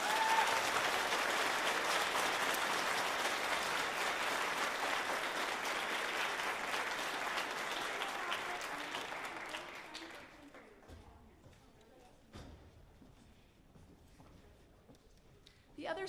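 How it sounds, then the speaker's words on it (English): Audience at a children's chorus concert applauds chorus members, sustained clapping for about ten seconds that tapers off into a quiet room with scattered small noises and a few last claps. "Please give them a huge round of applause."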